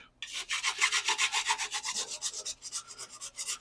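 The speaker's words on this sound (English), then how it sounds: "This is like a medium file, I think." A medium hand file smoothing mangled metal trim from a classic antique car, rhythmic close rasping strokes at roughly four per second, steady and alone with no talk.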